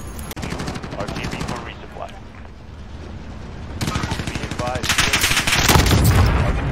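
Video game gunfire in a Call of Duty Warzone Plunder match, including a sniper rifle shot. Loud, dense shots ring out close and keep going, growing heavier toward the end.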